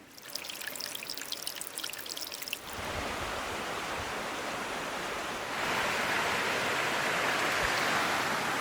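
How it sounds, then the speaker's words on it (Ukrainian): A mountain river tumbles over rapids in the Synyak–Synyachka hiking area, a steady broad rushing roar that grows louder as it comes nearer, with faint high chirps at the start before the water drowns them out. "Підходжу до річки, зараз прогуляюсь трошки лівіше, там гарні перекати є."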